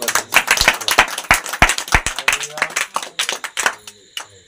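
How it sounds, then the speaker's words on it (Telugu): A church congregation claps hands in worship, a run of uneven, loud claps that thins toward the end, with voices under it. "చప్పట్లు కొట్టి దేవుని నామమున"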